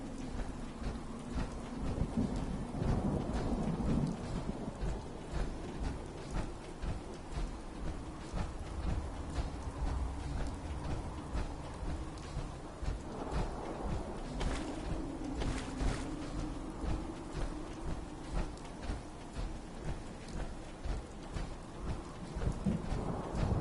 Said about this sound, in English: I really like the effect though of the rain on the power armor helmet